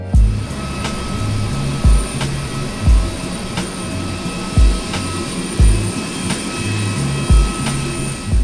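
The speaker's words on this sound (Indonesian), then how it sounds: "pesawat lepas landas, meninggalkan Semarang dan menuju Palangkaraya" A passenger airplane takes off from Semarang, its jet engines giving a sustained loud roar with a series of regular low thuds, like rolling over runway joints, repeating through the run.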